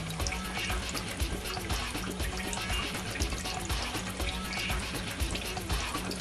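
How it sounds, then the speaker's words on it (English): Water pumped up into an enVision Rainmaker unit by an aquarium pump, a constant close trickling and splashing flow with no talk over it. "The water will then go up into the Rainmaker unit, and that unit is now operating."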